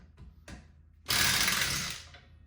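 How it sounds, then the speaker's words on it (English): A screwdriver works the handlebar bolts on a mini bike, a couple of soft metallic clicks followed by a short, harsh grinding rasp that fades out. "We got the old deck screwdriver."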